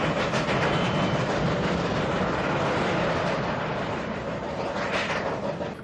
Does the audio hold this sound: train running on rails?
yes